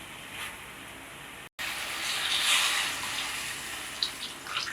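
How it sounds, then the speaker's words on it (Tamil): Water pours steadily into a cooking pot of sambar with a continuous splashing rush, briefly cut off near the start, then running on loudly. "சாம்பாருக்கு தேவையான அளவு தண்ணி ஊற்றிட்டு"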